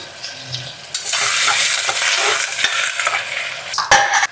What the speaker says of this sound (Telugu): ఎర్రగడ్డని దోరగా వేయించుకోవాలి